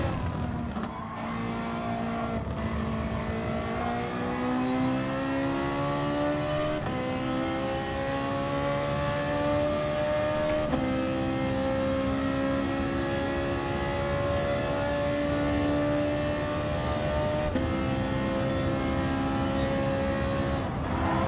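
Ferrari race car in GT Sport: the engine screams loud and close throughout, its pitch climbing as it revs through the gears, with short dips at each shift and no voices.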